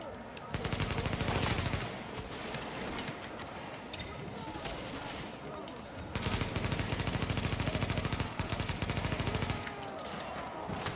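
Automatic weapon fire in the video game The Division: dense, rapid bursts of shots that come in waves with slightly quieter stretches between them, running across the whole clip.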